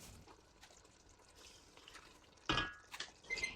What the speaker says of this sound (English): And now we can add in our potatoes and our carrots.